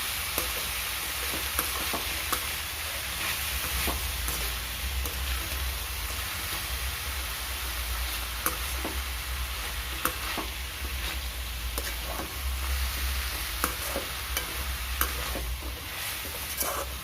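Steady sizzling of capsicum frying in a pan for capsicum thokku, with intermittent scrapes and clicks from stirring throughout.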